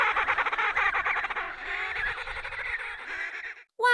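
A penguin brays loudly and close up in a long, harsh, honking run of pulsed calls that slowly shifts in pitch. It ends abruptly, and a brief higher squawk follows.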